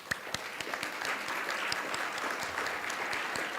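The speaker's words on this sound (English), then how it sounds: "So let's give a big clap." An audience at a community services district board meeting claps, with distinct individual hand claps over a soft, steady spread of applause, fairly quiet and somewhat distant.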